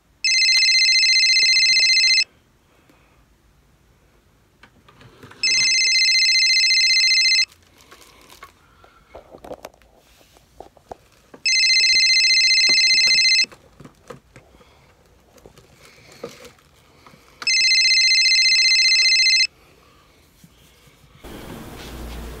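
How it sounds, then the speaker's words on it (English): A phone ringtone rings in four loud, evenly spaced bursts of about two seconds each, with quiet room sound between the rings. "You better answer this fucking phone too."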